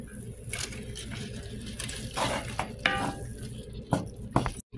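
Pasta goes into a pot with purple tomatoes and is stirred, giving soft clinks and scrapes of utensil on cookware over a faint sizzle, fairly quiet and close.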